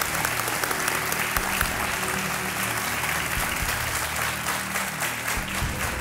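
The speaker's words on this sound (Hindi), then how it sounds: "तालियों के साथ इनका स्वागत किया जाए।" Steady, dense applause from a TV quiz show studio audience, clapping continuously at an even level throughout without pause.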